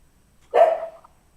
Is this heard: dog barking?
yes